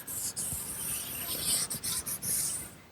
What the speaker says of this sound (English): Now some final sanding with some 220 grit sandpaper